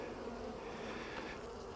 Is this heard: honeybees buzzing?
yes